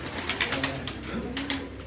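Soft pigeon coos repeat in short bursts over a low hum of background noise, with a few sharp clicks or flutters mixed in.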